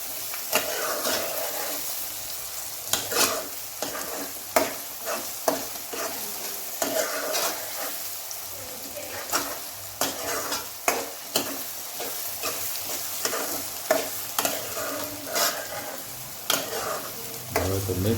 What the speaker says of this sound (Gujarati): જો એકદમ સારી રીતે હલાવી નાખશું